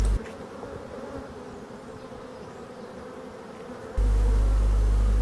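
Black honeybees swarm over the brood frames of an open hive and give off a steady, close buzzing hum. Near the end, a loud, low rumble suddenly takes over.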